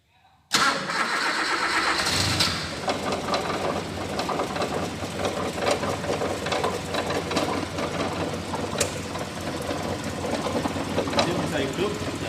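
A car engine cranks and fires into a steady idle after work on its ignition distributor, starting close and loud with a brief burst of cranking, then running continuously with a mechanical clatter and voices faintly underneath.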